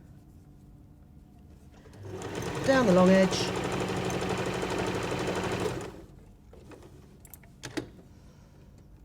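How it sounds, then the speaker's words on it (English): A sewing machine runs a quick zigzag stitch along the long edge of a folded produce-bag fabric with a slight nap, a steady mechanical whir lasting several seconds with a voice talking over it. "turn your sewing machine on would help, and a quick zigzag"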